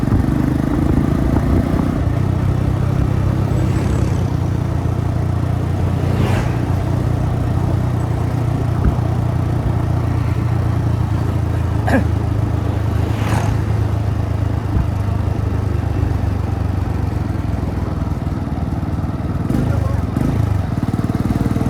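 A Honda CB110 motorcycle rides downhill on a narrow street, its engine running low and steady throughout with a constant rumble, with brief clicks and shifts in pitch along the way.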